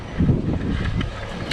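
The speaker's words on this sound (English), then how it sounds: "It's still pretty windy and cool out" Wind blowing outdoors at a lakeside dock, a steady low rushing buffet against the microphone with a few gusty swells, fairly loud throughout.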